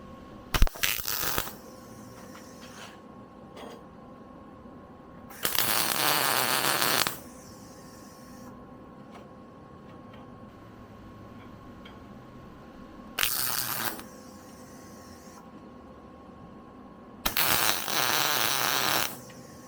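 Welding on a steel chainsaw mount tool comes in four separate bursts of crackling arc noise, each lasting one to two seconds, between quiet pauses with faint clinks.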